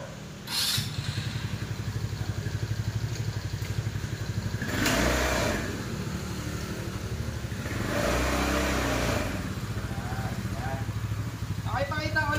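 A 200cc Buggy Supreme 4x2 UTV engine runs close by with a steady mechanical hum, rising in two revving surges as it drives forward, while someone talks over it.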